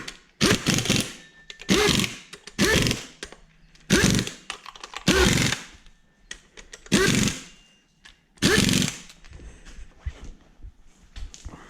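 Bursts from an impact wrench tighten 12 mm bolts during cambelt work on a Toyota 1UZ/3UZ VVTi V8, each loud rattling hammer lasting about half a second, repeated seven times with quiet gaps between.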